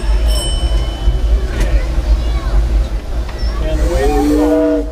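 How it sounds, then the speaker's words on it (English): A genuine steam engine of the Disneyland Railroad chugs along with steady low rumble and hiss, a whistle-like tone rising near the end, while people chat nearby. "it's a genuine steam engine"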